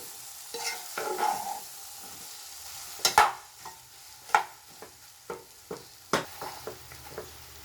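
A spoon stirs mutton boti curry in a pan, giving a steady series of distinct scraping knocks over a low background sizzle, with no talk.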